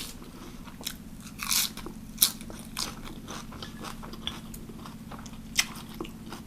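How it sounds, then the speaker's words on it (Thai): Crunchy vegetables chewed with spicy Korean instant noodles, crisp bites and wet crunches repeating close up in an irregular rhythm over a steady low background hum, with no talking. "เส้นเหนียวนุ่มมากเลยค่ะทุกคนผักกรอบ"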